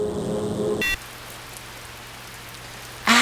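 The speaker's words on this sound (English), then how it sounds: "The rain!" Steady rain hisses in the video game The Music Machine. A louder stretch of other game sound cuts off first, then the even downpour carries on alone until a new sound bursts in at the end.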